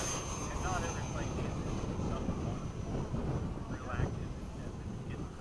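Hawk aircraft throttling up for a formation takeoff: a steady, loud, broadband engine roar fills the whole stretch without a break.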